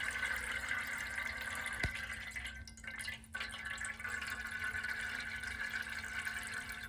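Lighter fluid trickles steadily from a container into a pan of melted wax while making fire starters, a faint continuous liquid pour with a small splash partway through, heard close and without talking.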